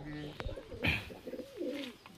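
A few soft coos from the oldest pigeon in a loft, a bird brought from Delhi, heard close and mixed with light background talk.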